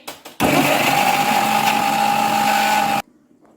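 A kitchen grinder runs in one steady, loud whir for about two and a half seconds with a sustained tonal hum, then stops abruptly; it is used in place of a mixer while preparing chicken tikka kebab.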